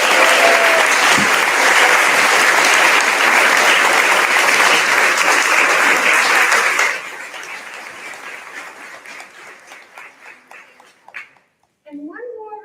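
A large audience at a fifth grade promotion ceremony applauds teachers and staff, loud sustained clapping with cheers that drops off sharply partway through, then fades into scattered claps and a few voices.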